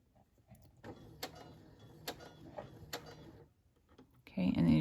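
Sewing machine stitching fabric ruffles, several short bursts of mechanical ticking and clatter with brief pauses between them, close and fairly quiet, ending in a louder rush of noise. Someone speaks over it.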